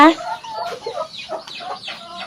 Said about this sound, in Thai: จะได้ยินเสียงไก่ลงนิดนึงนะคะ